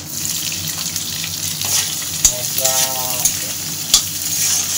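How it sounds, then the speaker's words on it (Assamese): Onions frying in hot oil for a mutton curry, a steady loud sizzle with a few sharp clinks of stirring and a brief rising hiss midway, no voices. "পূৰা গৰম তেলত এতিয়া পিঁয়াজ ফ্ৰাই চলি দেখিছে নাই?"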